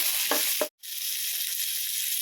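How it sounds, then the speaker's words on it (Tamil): A tomato drops into onions and garlic frying in a pan for a Tamil dried-fish curry; bright steady sizzling with two short scraping strokes, a momentary cutoff, then the hiss resumes evenly. "இந்த ஸ்டேஜில் தக்காளி ஒரே ஒரு பழம் தான் சேர்க்குறேன்"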